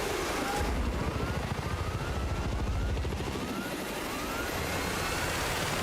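A Little Bird helicopter in the video game Battlefield 6 thrums loudly and up close, its rotor chopping in a rapid steady pulse under a high engine whine, continuous throughout.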